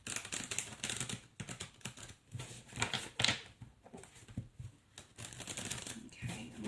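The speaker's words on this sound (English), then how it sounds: "Shuffle here now on this Devil card" Tarot cards riffled and shuffled in repeated soft rustling bursts, close by, with faint voice-like murmuring in the background.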